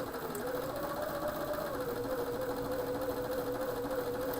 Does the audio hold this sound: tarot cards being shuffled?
no